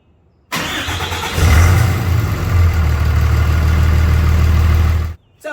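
A Cummins diesel truck engine fitted with a cold air intake cranks, catches and settles into a loud, steady, deep idle, close up, then cuts off.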